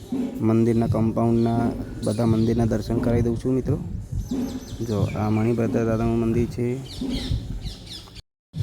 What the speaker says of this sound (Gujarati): પક્ષીઓનો સુંદર કલરવ